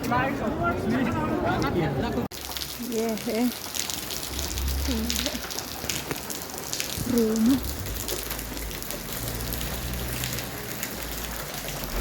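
Steady heavy rain hisses throughout, with a few voices talking briefly over the downpour.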